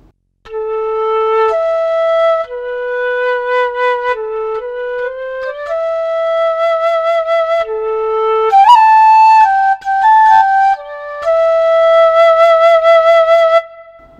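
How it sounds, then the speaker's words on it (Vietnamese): The original flute voice of a Kurtzman K350 keyboard plays a slow, clean melody of sustained notes stepping up and down, with one brief bright ornamented flourish partway through, alone and clear. "Thì mình sẽ cho các bạn nghe thử tiếng sáo gốc của cái đàn."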